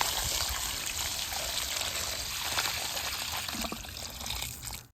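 Fresh aquarium water poured into an FX6 canister filter, a steady trickling and splashing of liquid running continuously and close up, easing off only at the very end.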